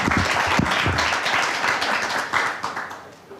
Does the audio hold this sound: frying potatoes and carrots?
no